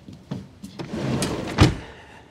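A desk drawer slides with a rolling rumble, followed by a short knock and a firm thump as it shuts, close and fairly loud, without speech.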